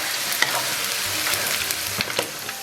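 Minced meat sizzles in a wok with scallion and ginger over medium-low heat, a loud, steady frying hiss broken by scraping stirring strokes close up.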